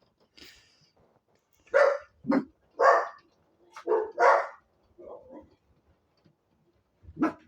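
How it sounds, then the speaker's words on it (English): A dog barks repeatedly nearby, a series of sharp, loud barks spaced unevenly with short pauses between bursts. "Quit barking at Rain!"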